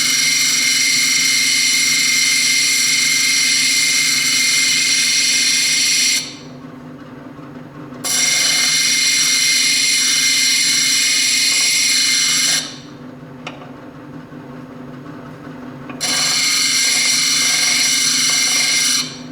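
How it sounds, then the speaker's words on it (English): Grinding the corners off a stone cabochon on a spinning wheel, a loud close high-pitched whine in three long passes, each broken by quieter stretches of the wheel running free. "The only reason I'm grinding these corners off"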